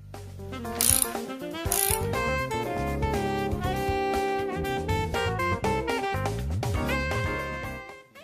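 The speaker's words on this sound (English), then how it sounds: "Tighten the nuts to secure the hangers to the door." Nuts being tightened onto carriage bolts to secure hangers to a sliding barn-style door, a fast ratcheting clatter repeating close and loud with brief pauses.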